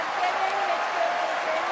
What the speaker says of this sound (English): standing ovation from the crowd in Incheon, Korea